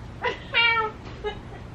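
Several short, separate cat meows close by in a quiet indoor space, with a soft bed of room noise and no talking.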